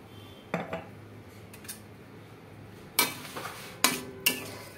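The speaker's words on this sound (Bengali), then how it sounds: "পনিরটা কিন্তু রান্না হয়ে গিয়েছে, একটু গরম মশলা দিয়ে দিচ্ছি, দিয়ে একটু নাড়িয়ে নেব আর একটু ঘি দেব।" Paneer and garam masala being stirred in a metal pan, with a few sharp utensil scrapes and clinks against the pan, scattered across a quiet background with no talking.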